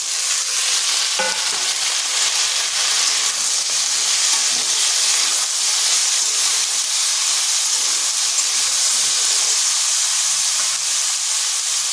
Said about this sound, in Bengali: এরপর দিয়ে দিচ্ছি কেটে রাখা ঝিঙ্গাগুলো।